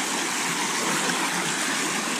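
Water rushes steadily through a sluice box set in the Cervo mountain stream, a close, loud, unbroken hiss and splash with no voices.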